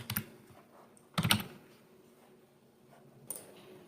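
Bursts of typing on a computer keyboard, entering the text of a marriage agreement document: a short cluster of clicks at the start, a louder rapid flurry around the middle, and a final brief clatter, with quiet pauses between.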